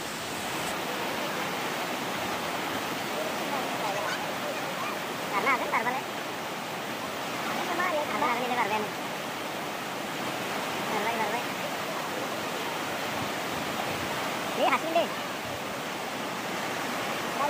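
Steady broadband rush of a large flowing river, the Pagladiya, as an elephant crosses, heard from a distance with a few faint brief splashes or calls rising above the constant water noise.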